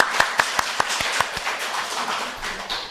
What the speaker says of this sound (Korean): 격려의 박수 하도록 하겠습니다.